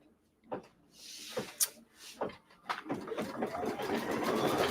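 An embroidery machine stitches an appliqué outline for a peppermint stick: quiet mechanical clicks and whirring bursts that build into a continuous rapid stitching hum, faint and close.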